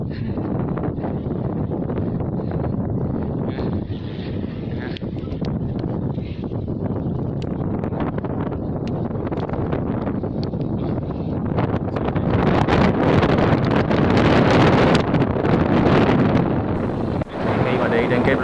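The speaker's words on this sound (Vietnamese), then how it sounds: "Khi mà đi trên cái bờ cát này thì cái đặc trưng của nó là rất là gió nè" Strong wind buffets the microphone on white sand dunes, a steady roaring rush throughout that swells louder in the second half, with no clear voices.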